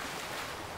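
River water in the video game Far Cry 5 rushes in a steady, close, full wash of flowing water with no voices.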